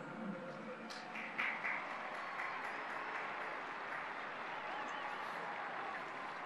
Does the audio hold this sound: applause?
yes